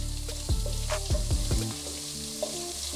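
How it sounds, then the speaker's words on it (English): Ginger garlic paste fries in a pan for an egg curry, giving a steady, close sizzling hiss broken by a few low thumps and clatters early on. "And now fry the ginger garlic paste till it gets rid of its raw flavor."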